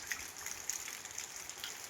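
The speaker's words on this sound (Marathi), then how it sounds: "असा जोरात पाऊस चालू आहे" Heavy rain falling outside a home, a soft, steady wash of drops and gushing water heard faintly from a distance, without talk.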